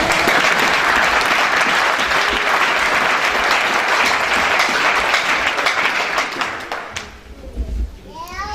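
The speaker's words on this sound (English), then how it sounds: "you clap now." A church congregation applauding, a dense, loud wash of clapping that fills most of the stretch before thinning out near the end, with faint voices mixed in.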